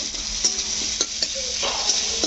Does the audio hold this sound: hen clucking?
no